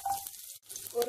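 Mustard seeds and chana dal spluttering in hot oil give a brief close crackling sizzle with a short pause midway, no talking.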